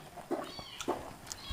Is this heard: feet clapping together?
no